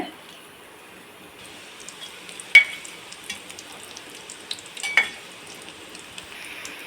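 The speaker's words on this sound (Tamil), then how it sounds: "எண்ணெயை வந்து மீடியம் ஃப்ளேமில் வச்சு வறுக்கலாம்" Kola urundai balls fry in oil over a medium flame, giving a faint, steady sizzle with a few sharp crackles and pops, while a voice talks quietly in the background.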